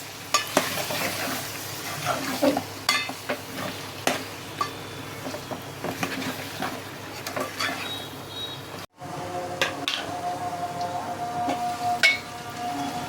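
Chicken frying in a pan for a gravy curry, with a steady soft sizzle and repeated scraping and clinking as a utensil stirs it against the metal, close and alone with no talk.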